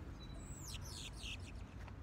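Several birds chirp in a garden, a run of quick high tweets and downward-sweeping calls over steady low background rumble, moderately near.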